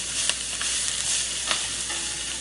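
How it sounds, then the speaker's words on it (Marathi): Mutton sautéing in oil in a pressure cooker over high flame, a steady close hiss of frying with a few sharp clicks of stirring, no voices. "आता आपण कुकरमध्ये व्यवस्थित ते मटण परतून घेऊ तेलामध्ये।"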